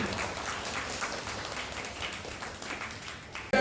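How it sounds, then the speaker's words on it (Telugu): An audience applauds steadily at a devotional Sai Baba gathering, a dense, even wash of clapping that holds for several seconds, then swells into a sudden louder burst at the very end. "గట్టిగా చప్పట్లు కొట్టండి"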